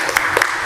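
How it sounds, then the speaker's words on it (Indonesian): A brief burst of applause for a participant in an online teacher performance assessment session, a few quick loud claps in under a second. "Kita berikan aplaus untuk Mbak Riris"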